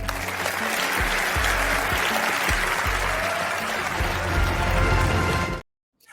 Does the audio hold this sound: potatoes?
no